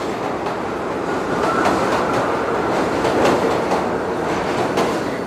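A Caracas metro subway train runs along its tracks, a loud steady roar of wheels and rattling carriages with rhythmic clickety-clack beats throughout.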